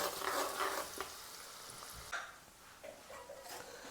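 Mustard seeds fry in oil on a low flame for a pickle, giving a soft, steady sizzle with a few light stirring scrapes and pops, close and quiet.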